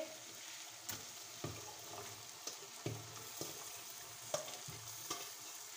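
Tinda round gourd pieces go into spices frying in a pot, giving a soft sizzle under a series of sharp stirring knocks and scrapes at a steady, irregular pace.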